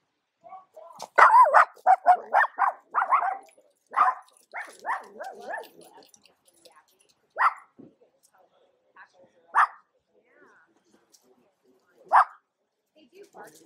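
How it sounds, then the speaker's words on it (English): Norwegian Lundehund dogs bark in a quick burst of sharp, close yips and barks, then a few spaced single barks follow against an otherwise quiet room. "They do bark."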